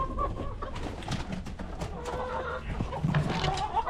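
Hens and a rooster clucking and cooing inside a barn, a busy overlapping chorus of short calls at close range.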